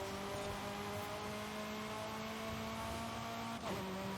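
A Nissan R390 race car in Forza Horizon 5 holds a steady, high engine drone at full throttle with a brief shift dip near the end, faint and continuous with no talk.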